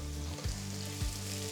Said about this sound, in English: To this I am adding 3 large onions thinly sliced.